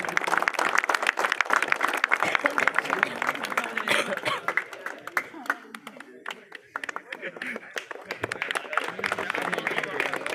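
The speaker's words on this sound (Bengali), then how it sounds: "আমরা করতালি দিয়ে অভিনন্দন জ্ঞাপন করি।" A crowd at a cricket league prize-giving keeps up dense, continuous clapping, close and loud, with some laughter and voices mixed in.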